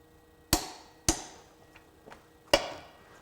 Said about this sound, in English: not a huge fan of using an impact driver to remove or fasten a bolt like this